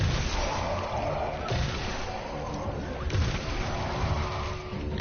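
A fusion rifle in the video game Destiny fires about three heavy, booming discharges roughly a second and a half apart, each a broad crackling blast with a whooshing tail, loud and close.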